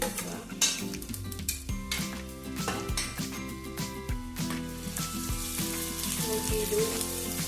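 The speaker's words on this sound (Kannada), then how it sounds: "ಹಸಿ ಸ್ಮೆಲ್ ಹೋಗುವ ತನಕ ಫ್ರೈ ಮಾಡಬೇಕು." Ginger sizzles steadily in a hot pan for Kumble Kasaragod style bangude pulimunchi, a continuous close frying crackle with occasional clinks of utensils against the pan and no talking.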